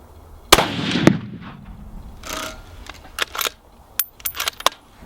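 A .308 Winchester Savage 10FP rifle fires a 43.5 load at a 100-yard range: one sharp, loud crack with a short ringing tail, then scattered metallic clicks and light handling noises.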